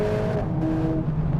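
A Mercedes-AMG A45 S hot hatch pulls hard through quick upshifts from first toward fourth, its engine note climbing, briefly dropping at each rapid shift, then rising again, loud and close throughout.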